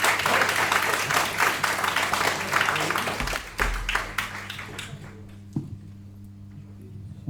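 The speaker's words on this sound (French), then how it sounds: "On peut les applaudir." Conference attendees in Paris applaud four speakers, a full burst of clapping that thins out and fades to a few scattered claps, with a low hum underneath.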